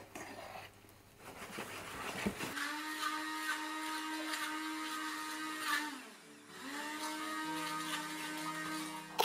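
Stale bread for a vinaigrette being crushed in an electric grinder, a loud whirring motor that spins up, runs steadily, dips and slows briefly midway, then revs up again, close by with no talking.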